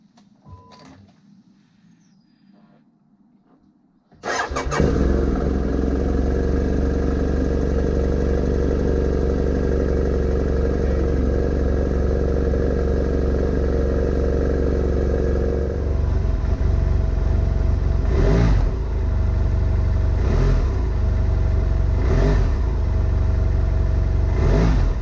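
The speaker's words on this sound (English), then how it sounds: "let's start the bike and see if it starts actually, and after replacing the spark plugs" A BMW F800GT motorcycle engine fires up after a quiet start, settling into a loud, steady near idle with its spark plugs just replaced, then rising into several sharp revs toward the end.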